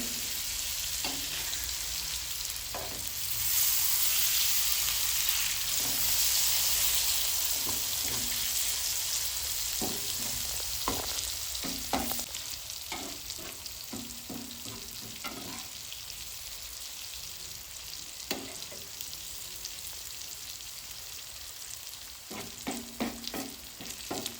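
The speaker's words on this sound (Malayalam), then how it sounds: "നന്നായിട്ടൊന്ന് ഫ്രൈ ചെയ്തെടുക്കാം. നമ്മളെ മീനൊന്ന് മറിച്ചിട്ട് കൊടുക്കാം നമുക്ക്" Avoli (pomfret) fish frying on low flame in a pan with coconut masala, a continuous soft sizzle that is louder early on, broken by scattered scraping and clattering as the fish is turned.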